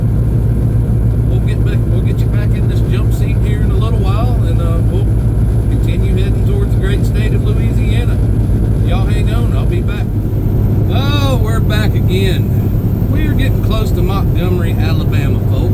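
Semi truck cruising along a road, its low engine drone and road rumble steady and close from inside the cab, with someone talking throughout over the noise.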